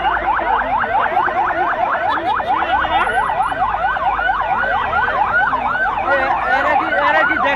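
An ambulance siren wails continuously in a fast, regular up-and-down warble, loud and close, during a funeral procession crowd; a faint voice or two sits underneath.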